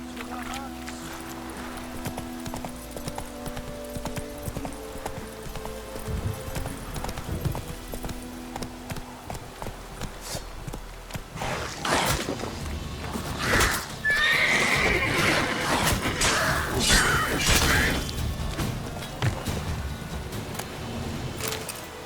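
Horse galloping through The Witcher 3 game world, rapid clip-clop hoofbeats under loud repeated neighs and whinnies, with a voice calling out over the ride.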